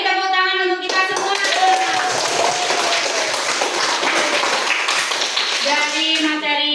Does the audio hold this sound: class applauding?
yes